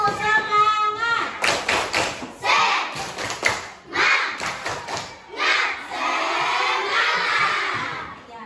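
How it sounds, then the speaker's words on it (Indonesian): Primary school class in Indonesia doing the tepuk semangat rhythmic clapping routine, bursts of group claps and patterned slaps mixed with children chanting and a teacher's voice, close and lively. "mari kita tepuk semangat dulu"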